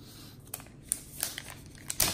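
Packaging of an Apple Magic Keyboard with Numeric Keypad is opened up close, giving quick crinkles and crisp tearing ticks in short bursts over about two seconds.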